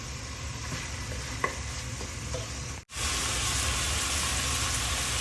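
Bacon frying in a pan for a beef and bean chili, a loud, steady, dense sizzle with a light scrape as it is stirred; it breaks off abruptly for a moment, then resumes just as strongly.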